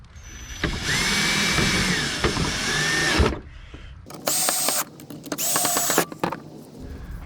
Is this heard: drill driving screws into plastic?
yes